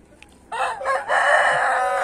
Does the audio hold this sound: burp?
no